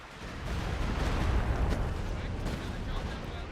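Stuka rocket artillery fires in Company of Heroes, a dense roaring barrage rumbling loudly and continuously through the whole stretch with no clear gaps.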